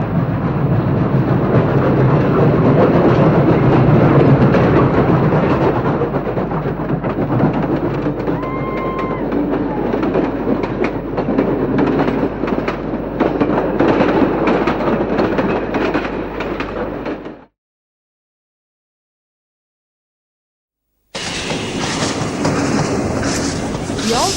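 A locomotive rumbles steadily along the rails between Newcastle and Maitland with rhythmic clatter, loud and close, then cuts to silence before the rolling noise resumes.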